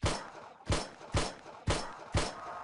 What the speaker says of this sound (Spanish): le vamos dando muchos tiros seguidos en la cabeza